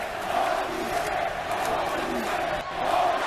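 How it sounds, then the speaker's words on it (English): Wrestling arena crowd in WWE 2K22 during Monday Night Raw, a dense, steady roar of cheering and yelling that swells and stays loud throughout. "This crowd is going insane!"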